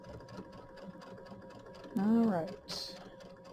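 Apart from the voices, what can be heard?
sewing machine stitching a quilt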